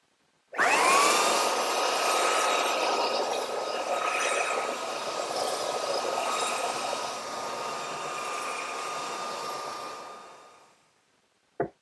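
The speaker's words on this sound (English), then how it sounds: "You don't want to let the sander sit in one place, or else it'll dig a real deep hole in there." A power sander runs steadily across the wooden leaves of a drop-leaf table for about ten seconds, a loud, even whirring hiss with a faint steady whine, then winds down and stops.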